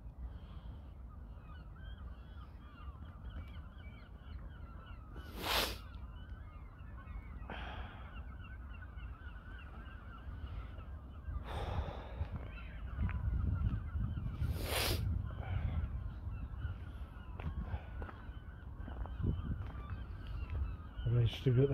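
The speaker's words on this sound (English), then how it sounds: "Look at all these bloody seagulls." Seagulls at a lagoon give a series of harsh, honking calls, some near and loud, others fainter, scattered irregularly over a steady outdoor background.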